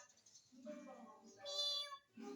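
Several cat meows in a row, close and clear, each one drawn out with a rising, whiny tone.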